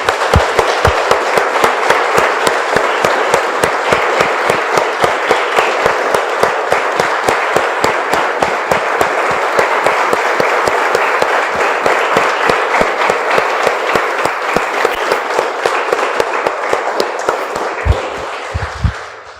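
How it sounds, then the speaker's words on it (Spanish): A church congregation applauding after a prayer, loud and close, settling into a strong rhythmic unison clap at a steady beat for nearly twenty seconds before fading out. "Damos un aplauso, hermano"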